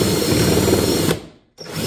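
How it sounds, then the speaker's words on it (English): A power drill with a countersink bit whirs steadily at close range into wood near a corner, then cuts out briefly and spins back up. "I'm drilling so close to the corner."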